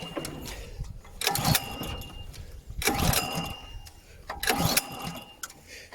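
An Allett Classic 14L petrol lawn mower gets three pull-start attempts with the choke on, each a rasping burst of cord and engine turnover that fails to catch, close up with quieter gaps between.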